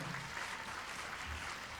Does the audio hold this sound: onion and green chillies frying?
no